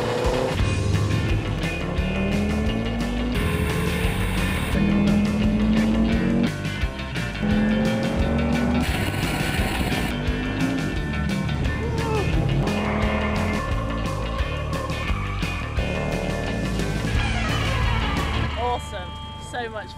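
Cars run fast on the Contidrom test track during a driver safety training session, engines revving and tires squealing through repeated skids, with people talking over the noise throughout.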